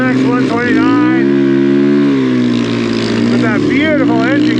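CMX 129 snowmobile engine, close and loud, revving steadily with rising and falling pitch sweeps as the sled climbs through snowy mountain trees.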